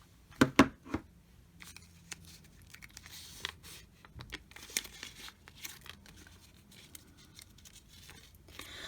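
Paper is handled and pulled from a small PeriPage thermal printer, with a few sharp crinkles and snaps at first, then soft rustling, clicks and crinkling, close and quiet with no talk.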